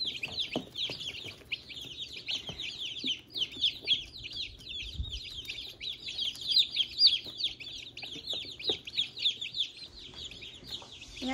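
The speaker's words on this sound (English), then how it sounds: "As you can see, some of the chicks are already drinking on their own." Baby chicks raised without a heat lamp give a constant high, rapid peeping and chirping from many birds at close range, with small taps and rustles underneath.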